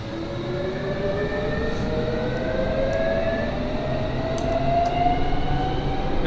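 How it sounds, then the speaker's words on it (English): A London Underground train departing in the Train Simulator 2019 video game, with a loud continuous rumble and rising whining motor tones sweeping upward as it gathers speed, a few faint clicks along the way. "And this train is ready to depart."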